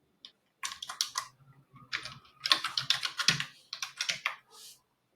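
Bursts of quick, crisp keystrokes on a computer keyboard as a password is typed, a brief run of clicks, a pause, then a longer fast cluster of keys, close and quiet with no voice.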